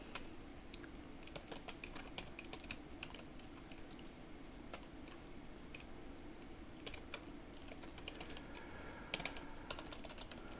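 Steady keystrokes on a computer keyboard while entering words into a web puzzle creator, a continuous run of quick, fairly faint clicks with a few louder taps near the end and no talking.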